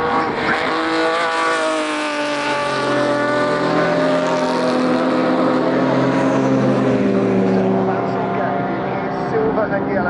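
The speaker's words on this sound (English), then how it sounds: "Silver and yellow Ferrari." A silver and yellow Ferrari race car roars past at Goodwood Motor Circuit, its engine note rising and falling loudly and continuously with other racing cars close by, under a commentator's voice.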